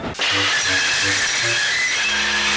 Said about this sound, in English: a cloud of steam erupted from the top of James and his crew had to stop